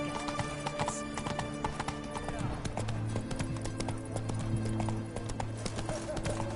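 Roach the horse gallops in a PS4 video game, a steady rapid clip-clop of hooves running continuously under a dense bed of game music and ambience.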